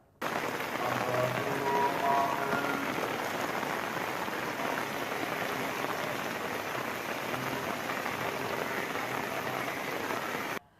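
Heavy rain pours steadily on surfaces in Rameswaram, a dense, even hiss of drops that stays loud and unbroken for the whole stretch, with no voices over it.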